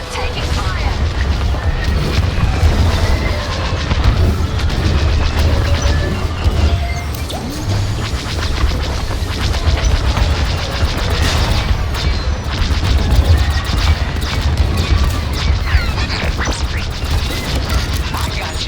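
A starfighter takes fire in the Star Wars Squadrons video game, with a dense, loud, continuous wash of mechanical clatter, crashing impacts and booming blasts that runs unbroken from start to finish.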